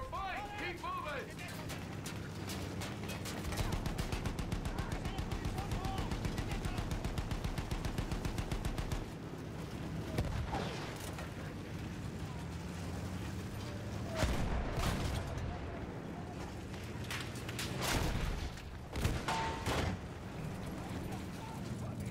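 Rapid gunfire rattles almost nonstop through a Battlefield 1 firefight, with bursts and heavier blasts that come and go while players talk over the shooting.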